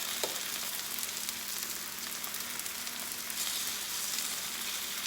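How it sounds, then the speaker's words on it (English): Beef fajitas fry in a pan with a dense, steady sizzle and crackle, loud and close, with no voices over it. "So let that cook really, really well."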